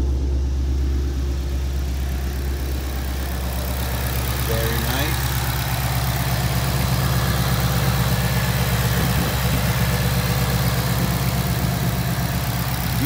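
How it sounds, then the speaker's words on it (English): A Shelby GT350's engine idles with a deep, steady rumble up close, while a voice speaks briefly over it. "Let's see how the engine sounds."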